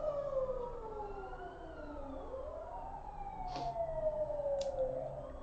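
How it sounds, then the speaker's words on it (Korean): A wailing ambulance siren sweeps up and down in the distance, heard from an office beside a fire station, its pitch sliding as it passes, heard faintly over quiet room tone. "앰뷸런스 소리가 나네요."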